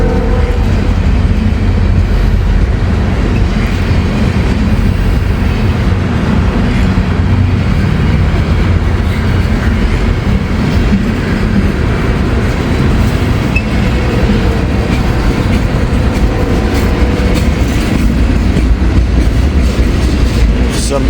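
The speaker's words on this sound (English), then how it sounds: "There goes a Canadian grainer." A Canadian grain hopper freight train rolls past close by, a loud continuous rumble of steel wheels with rhythmic rail clatter that holds steady throughout.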